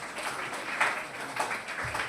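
An audience claps steadily throughout at a church celebration, a soft, even wash of applause heard from within the crowd.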